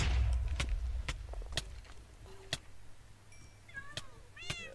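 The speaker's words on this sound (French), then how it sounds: "il y a énormément de chats qui m'attaquent" Several cats meow in quick succession, sharp and fairly close, over a low rumbling background.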